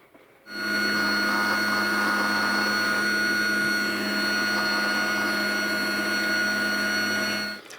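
A small milling machine cuts a slot into the end of a part with a 0.8 mm end mill while repairing the backplate of a 1946 Madewell 49 spark-ignition engine, a steady high whine that starts and stops abruptly.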